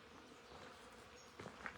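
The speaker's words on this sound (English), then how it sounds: "The bees, you can hear the bees just making a buzzing noise." Bees buzzing faintly outdoors in a cactus garden, a soft, steady hum with a few slightly louder moments near the end.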